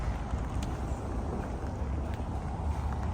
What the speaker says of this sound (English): let's do a startup of our Prado.